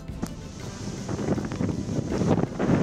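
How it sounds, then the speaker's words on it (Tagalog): Strong gusty wind from Typhoon Tino in Northern Negros Occidental roars and buffets the microphone in a low, rumbling rush that swells louder toward the end. "Nabatyagan ang mabaskog nga hangin kag pag-ulan sa polusyon sang Northern Negros Occidental dala sang Bagyo Tino."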